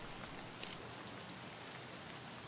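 Rain falling in the video game Escape From Tarkov, a continuous faint wash of drops on surfaces with one brief sharp tick, no voices.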